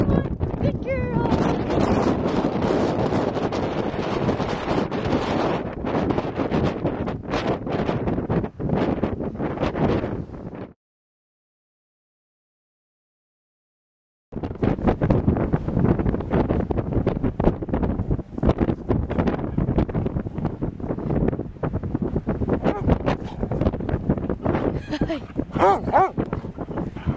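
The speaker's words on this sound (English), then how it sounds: "it's so windy" Strong gusts at the San Juans lighthouse buffet the microphone with loud, continuous roaring broadband noise, broken by a brief silent gap, while people talk and a dog is heard nearby.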